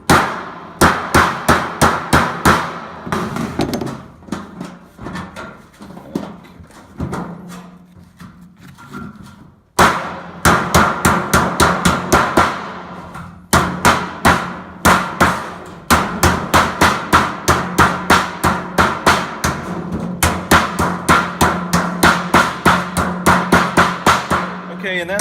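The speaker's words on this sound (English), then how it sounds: "You don't have to hammer it beautifully" A hammer beating sheet metal while working a 90-degree bend, with sharp, ringing metallic strikes in rapid, steady bursts, loud and close, broken by one brief pause before the pounding resumes.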